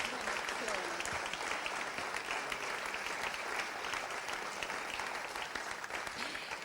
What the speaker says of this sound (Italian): Ti lascio godere di questo applauso,